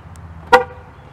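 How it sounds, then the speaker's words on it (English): A single short car horn chirp from an Infiniti FX locking by remote, sharp and close, in an otherwise quiet setting. "Honks, flashes the hazards"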